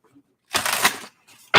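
Tarot cards being shuffled, a burst of riffling and sliding lasting about half a second, then a faint brief rustle and a sharper snap of cards at the end, close and dry.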